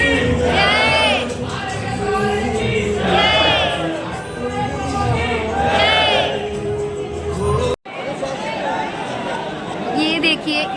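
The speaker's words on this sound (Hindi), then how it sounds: "ये देखिए इतनी सारी भीड़ है और जयकारे लगाए जा रहे हैं श्याम बाबा के।" A large crowd of devotees chanting slogans to Shyam Baba, with loud rhythmic call-and-response shouts rising in repeated waves over general crowd chatter and cheering.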